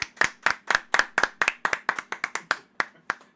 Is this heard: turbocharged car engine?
no